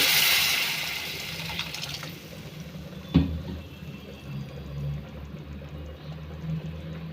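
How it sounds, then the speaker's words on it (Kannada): A glass of water poured into a pan of cooking noodles and vegetables, a rushing splash at first that settles into a bubbling simmer, with a single sharp knock partway through. "ಸ್ವಲ್ಪ ನೀರು ಹಾಕ್ಕೊತಾ ಇದ್ದೀನಿ, 1 ಗ್ಲಾಸು"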